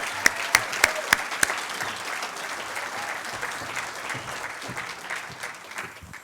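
A graduation ceremony audience applauding graduates, opening with a few sharp, loud claps nearby before settling into a broad, steady round of clapping from a large crowd.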